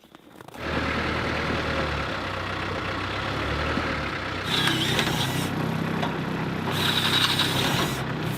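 A tractor engine with a platform mounted runs at a steady idle on a farm beside a chicken coop, a continuous low rumble at moderate distance, with brief higher-pitched mechanical whines partway through and no talking.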